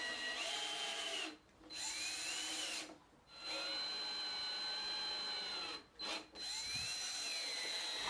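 A power drill drives screws into a wooden gate with a steady high whine, running in four close bursts separated by brief pauses as each screw goes in.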